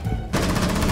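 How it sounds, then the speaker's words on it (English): Automatic gunfire crackles in the tactical shooter video game Rainbow Six Siege, a quiet lead-in and then a loud, rapid, evenly spaced burst of shots that fills the rest of the moment. "These dudes are shooting each other."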